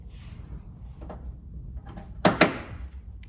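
Doors being fitted and closed on a Subaru BRZ being converted to a Rocket Bunny body: a soft knock, then two sharp, close bangs in quick succession over a quiet room background, with no talking.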